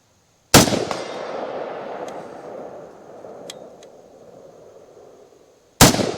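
A Ruger Mini 14 Tactical GB rifle fires one sharp, loud shot at a target 100 yards downrange, with a long rolling echo afterward. A second crack arrives at the very end.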